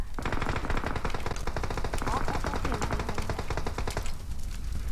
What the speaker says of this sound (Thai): โอ้คนยิง